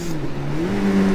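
Motorcycle engine on a mountain road through the Gorges de la Bourne, revving loud and close with a high-pitched, steadily rising whine over wind rush, no speech.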